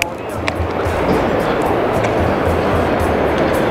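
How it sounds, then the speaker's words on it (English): Yosemite Fall in California, water plunging down the cliff, heard as a loud, continuous broadband roar close by, steady throughout with a faint low rumble underneath. "The sound that you are hearing is from the water that is falling down."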